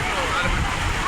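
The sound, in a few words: rushing rain floodwater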